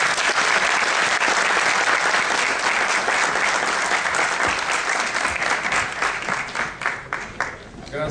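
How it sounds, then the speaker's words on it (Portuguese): An event audience gives a dense round of clapping that stays steady and loud, then thins toward the end, with no talk above it. "Uma salva de palmas."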